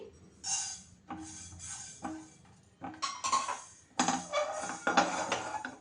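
Fenugreek seeds spilling onto a plate for homemade rasam powder, heard as a few light rattling and clinking bursts of small seeds against the dish, close and fairly quiet.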